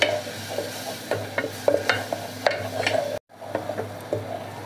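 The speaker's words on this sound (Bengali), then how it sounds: "ময়দা দিয়ে আমি ভালো করে নাড়ার উপরে রাখবো যেন ময়দা জমাট না বাঁধে" Flour being stirred through a pan for garlic cream sauce: steady scraping and tapping of a utensil against the pan over a soft sizzle, with a brief silent gap partway through.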